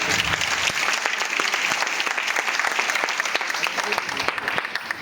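Steady, dense applause fills a hall at a marketing company's gathering, many hands clapping evenly and continuously at a moderate level with no talk on top.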